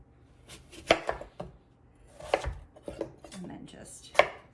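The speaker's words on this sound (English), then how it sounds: "Slice around the core." A knife slicing through fruit around the core on a cutting board, a few sharp separate cuts and knocks against the board with short quiet gaps between them, near and fairly soft.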